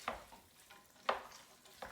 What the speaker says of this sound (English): I'm going to stir that, let it cook a little bit.